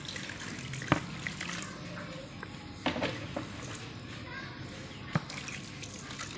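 Boiled water splashes and pours onto goat tripe (ojri) for cleaning in a kitchen, giving a quiet running-water sound with a few louder splashes, and faint voices in the background.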